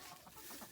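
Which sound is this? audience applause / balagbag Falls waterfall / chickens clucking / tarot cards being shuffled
chickens clucking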